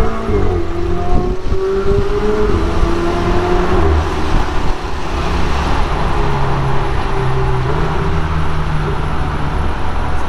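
A Ferrari 488 GTB held in second gear at about 4000 rpm gives a steady, loud engine drone and road roar heard from inside the car, continuous throughout with no speech.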